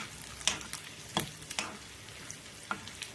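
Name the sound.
cashews and asafoetida frying in ghee for pongal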